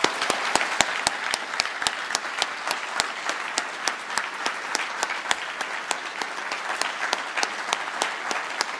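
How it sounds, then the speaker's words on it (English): A crowd at the EGX 2013 gaming expo applauds a Techland presentation with steady, even clapping that holds at full strength for around nine seconds, with no speech over it. "a big round of applause for Techland"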